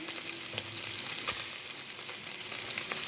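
Six green chilies go into sizzling mutton in a kadhai for Peshawari charsi dumba karahi, a steady close frying hiss with a few soft stirring clicks and no talking.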